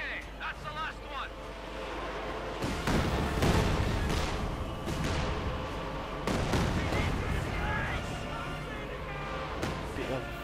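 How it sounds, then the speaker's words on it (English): Rocket fire and gunshots in the Company of Heroes 2 real-time strategy battle, a busy, irregular run of blasts and bursts over a rumbling mix, with a commentator talking throughout. "Bit of rockety shooting going on there."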